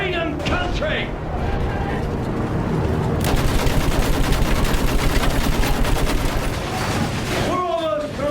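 Sustained machine gun fire in Battlefield 1, a dense rapid stream of shots lasting several seconds over loud battlefield noise, with a character shouting briefly before and after.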